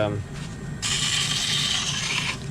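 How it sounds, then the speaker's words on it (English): A wooden ring spins on a lathe running in reverse while being sanded. After a brief low hum, a steady close rasping hiss takes over and carries on to the end. "I like to reverse the rotation of my lathe when I sand"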